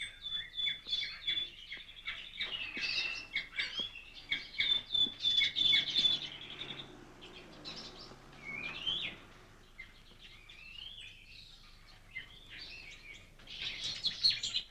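Songbirds chirp and warble in a dense, continuous chorus, high bright trills and whistles rising and falling at moderate distance, with no voices present.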